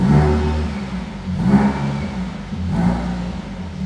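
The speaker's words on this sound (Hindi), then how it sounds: "अब आप इसकी गाड़ी की आवाज़ चेक करिए. बिल्कुल, मतलब आवाज़ में काफ़ी ज़्यादा बेस है" A used Audi A6 or BMW sedan's engine revs in three bass-heavy surges, each swelling then settling back to a deep rumbling idle, loud and close with no talk over it.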